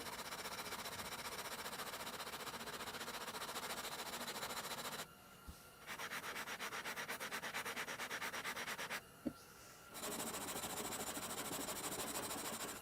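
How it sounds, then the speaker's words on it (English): Steady, continuous rasp of sandpaper on a block being pushed back and forth along a flamed maple guitar neck fretboard to shape a 14-inch radius, close and loud. Two short pauses break the strokes partway through. "It's now time to get a little bit of a workout and sand a radius into this fretboard."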